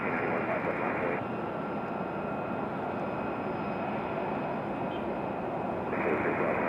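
Air France Airbus A350 pushing back at an airport: a steady, loud broadband jet engine roar with a high whine, holding constant throughout with a slight dip mid-way.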